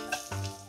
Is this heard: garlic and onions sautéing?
yes